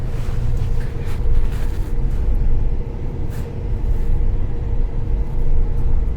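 A 2009 Ford Ranger with a manual transmission is driven on a snowy day, giving a steady, loud engine and road rumble with some wind buffeting throughout and no one talking.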